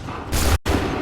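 In the game Assassin's Creed 3, a musket volley goes off as one loud, dense burst of massed gunfire with a rough, booming crackle, then a brief dropout and a continuing battle din.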